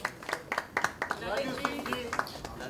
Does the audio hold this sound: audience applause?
yes